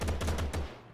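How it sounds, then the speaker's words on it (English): Gunfire in the video game Gangster New Orleans rattles out as a rapid burst of about five close, punchy shots in under a second, then stops abruptly. "he's just shooting at me"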